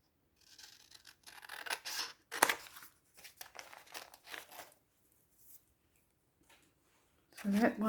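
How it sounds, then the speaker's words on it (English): Scissors snip white paper borders off vintage-style junk journal cards, giving scattered crisp cuts and crinkly paper handling in short bursts with gaps between them. "I will cut these white borders off though"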